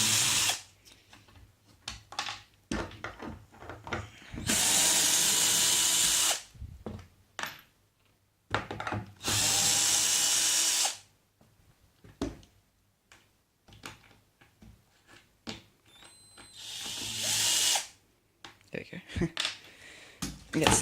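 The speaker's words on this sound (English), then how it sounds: "new drill." Power drill driving screws into a model railway layout, heard as three loud whirring bursts of about two seconds each, with a shorter final burst, separated by handling clatter and someone talking between them.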